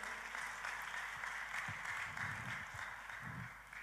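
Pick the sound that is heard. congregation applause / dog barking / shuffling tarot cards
congregation applause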